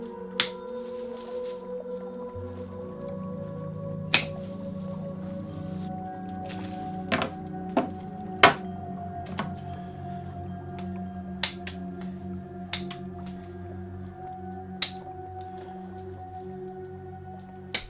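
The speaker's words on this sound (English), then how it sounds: "I'll cut these thicker pieces back to side shoots" Pruning cuts on thick bonsai branches, a series of sharp isolated snips spaced a second or two apart over a low steady background hum, close and crisp.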